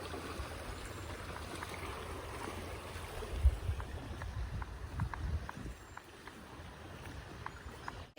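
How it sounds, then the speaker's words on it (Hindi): Stream water swollen and overflowing after heavy rain rushes steadily and continuously, a constant watery wash close by with no one speaking. "आज तो ये भी ओवरफ्लो हो रहा है क्योंकि पानी इतना आया है ना आज बारिश करके"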